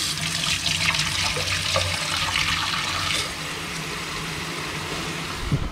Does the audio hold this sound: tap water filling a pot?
yes